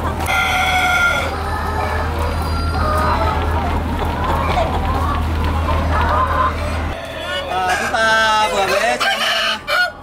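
A chicken being caught and handled at a poultry farm squawks and clucks loudly up close, its calls rising in agitated bursts toward the end, with people talking over a steady background hum.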